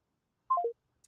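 An old landline telephone tone: a short, clean electronic sequence of three quick notes stepping downward, heard alone in silence and fairly close.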